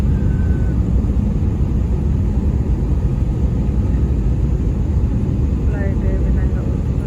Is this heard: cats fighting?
no